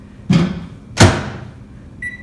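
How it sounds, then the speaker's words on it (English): A microwave oven door thuds shut twice, a loud close then a second knock about a second later, followed by a brief electronic beep as the oven starts heating peanut butter for waffles. "we're going to put it in the microwave for about 30 seconds"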